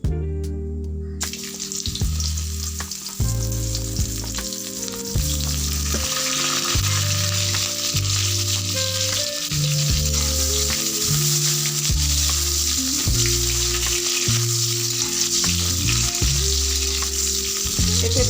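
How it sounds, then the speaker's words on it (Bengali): Papaya frying in oil with bay leaves for Bengali shukto while being stirred, a steady loud sizzle running the whole time with repeated scraping stirs and no talk. "প্রথমেই পেঁপেটা নিয়ে ভাজবো"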